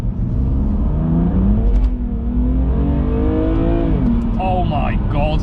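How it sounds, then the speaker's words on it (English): 2020 Audi RS6 tuned to 720 bhp pulls hard in second gear, engine note climbing steadily and loudly from inside the car before a gear change and a final rise, with people talking over it. "I'm gonna do a little second gear pull."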